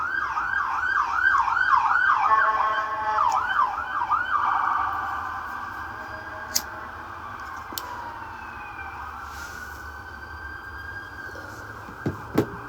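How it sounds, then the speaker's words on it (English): An ambulance siren wails loudly up close, then fades into a long, dwindling tone as the vehicle passes. Road noise and a few sharp knocks follow. "It gotta be the ambulance again."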